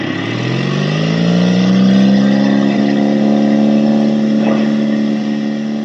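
Aircraft engine in a flight simulator throttling up for takeoff, a loud steady hum that rises in pitch over the first couple of seconds, then holds evenly, with no talk.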